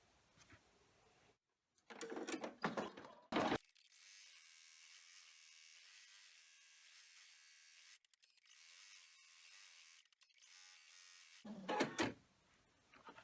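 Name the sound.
embroidery machine sewing placement stitch on cutaway stabilizer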